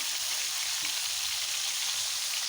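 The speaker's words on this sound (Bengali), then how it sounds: "হালকা করে ভেজে নেব, বেশি কড়া করে ভাজা যাবে না" Taki fish frying in a pan, a steady dense hiss of sizzling oil that holds at an even level throughout, close and uninterrupted with no voices.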